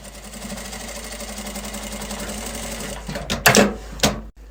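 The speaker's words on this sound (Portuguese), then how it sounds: "a gente vai passar uma costurinha aqui com margem de 1 centímetro" A sewing machine stitches a seam on a double-zip pencil case, running in a steady fast rhythmic whir up close, then slowing into a few separate bursts before stopping.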